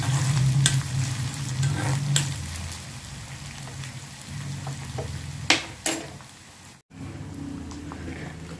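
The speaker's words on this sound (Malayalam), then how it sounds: "ഇതിനെ നന്നായിട്ട് നല്ലപോലെ വറുത്തിട്ട് എടുക്കണം കേട്ടോ" Steady sizzling of ginger frying in a pan for puli inji, with a few scraping stirs and clinks, close and continuous.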